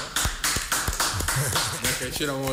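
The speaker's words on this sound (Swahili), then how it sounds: "tunakuwa tunapiga makofi ya heshima kwa miaka 21" A small audience gives a round of applause honoring an artist's 21 years in music, scattered sharp claps at first, then steadier clapping under a voice speaking over it.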